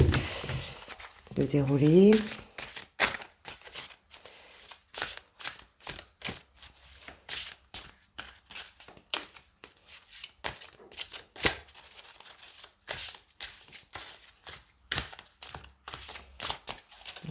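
Tarot cards are shuffled by hand in a quick series of close, crisp riffling slaps and flutters, with someone talking between the bursts.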